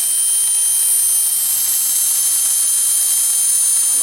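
A small, brand-new steam turbine runs with a continuous, loud, high-pitched whine over a steady rushing hiss, unchanging throughout.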